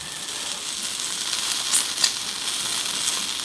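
A pork quesadilla sizzles in a pan just after being flipped, giving a steady, fairly loud frying hiss with a couple of brief crackles and no talking.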